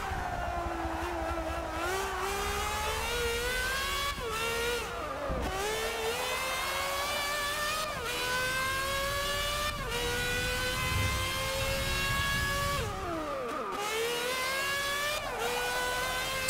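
Lotus E20 Formula 1 car engine in the Forza 6 racing game, a loud continuous high-pitched whine that climbs through the gears with brief dips at shifts and braking, steady and close throughout.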